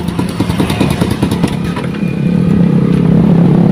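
A Suzuki Rider Jr motorcycle with a push-start problem idles steadily nearby, its engine putting out a loud, continuous low chugging with mechanical clatter that grows slightly louder toward the end.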